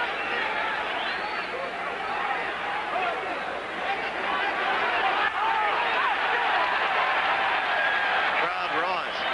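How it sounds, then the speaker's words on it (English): A large crowd at a 1978 amateur heavyweight boxing bout between Teófilo Stevenson and Jimmy Clark rises into a dense, sustained roar and babble, swelling partway through, with a commentator talking over it. "Crowd roars, half mockingly, as Stevenson gets a caution"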